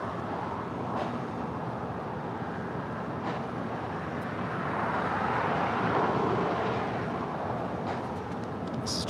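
A Japan Airlines Boeing 787-9 Dreamliner arriving at LAX from Tokyo Haneda produces a steady broadband jet roar that swells gently toward the middle and eases off, heard at a distance with no talking.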